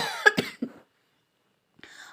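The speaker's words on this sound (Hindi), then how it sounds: "उसमें भी खांसी हो गया है।" A woman coughs several times in quick succession, close and fairly loud, with a slight throat-clearing quality, and then falls silent.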